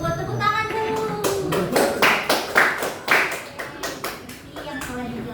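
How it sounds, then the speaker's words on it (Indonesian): A class of students in a group guidance session claps hands in a short burst of uneven, separate claps, with voices talking over and around them. "tepuk tangan dulu."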